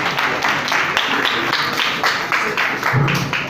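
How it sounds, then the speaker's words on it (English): Audience applause after a workshop presentation by group leaders in Gboko, Benue State, a dense, steady wash of many hands clapping that is fairly loud and sustained throughout, with some faint voices mixed in. "Let's clap for her, please."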